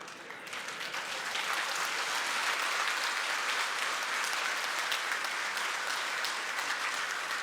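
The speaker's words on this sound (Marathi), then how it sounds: "ही टाळी कशासाठी? ही टाळी मार्केट कमिटीसाठी." A crowd at a BJP election rally in Barshi, Solapur, for the 2026 zilla parishad and panchayat samiti polls bursts into dense, steady applause that swells and holds for several seconds.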